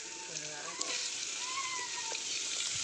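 Carrots, chillies and onions tempering in hot oil make a continuous crackling sizzle, with a voice briefly heard faintly in the background.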